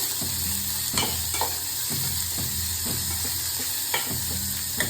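Bitter gourd palya fries in a pan with a dense, even sizzle, broken by regular scraping strokes of a spatula roughly every second, close and fairly loud.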